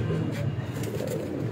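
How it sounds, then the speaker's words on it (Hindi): Lakha pigeon cooing on a rooftop loft, low soft rounded coos close by over a steady murmur of background noise. "ये एक और बड़े लाखे कबूतर का शौक करवा रहे हैं"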